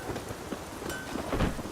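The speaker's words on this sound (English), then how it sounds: "It's raining." Rain and thunder in The Witcher video game: steady rain hiss with low rumbling thunder swelling near the end, alone with no talk.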